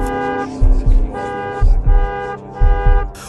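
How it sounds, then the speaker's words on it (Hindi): A car horn honks repeatedly in short double toots, loud and close, over a steady background hum of music or engine. "आते ही कार ने जोर से हॉर्न दिया"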